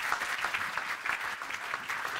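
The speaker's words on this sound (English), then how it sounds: "Let's give Daniel another round of applause." Audience applauding speaker Daniel Rogers, CFO of moneythink, at a talk: a steady wash of many hands clapping together, moderately loud and continuous for a couple of seconds with no speech over it.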